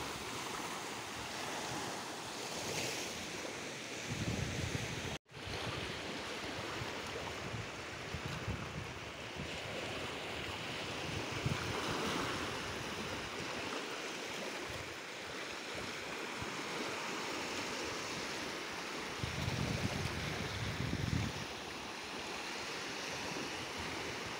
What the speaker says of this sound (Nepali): म चाहिँ अहिले समुद्रको छेउ चाहिँ एक्लै हिँडिरहेको छु।